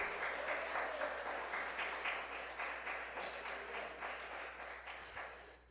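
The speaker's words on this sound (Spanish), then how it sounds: "Ese aplauso es para el Señor," A Spanish-speaking church congregation applauding during a sermon, dense rhythmic clapping from many people that starts strong and gradually eases off.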